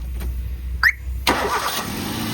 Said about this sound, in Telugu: సింగిల్ సెల్ఫ్లో స్టార్ట్ అవుతుంది సార్, చెక్ చేసుకోవచ్చు.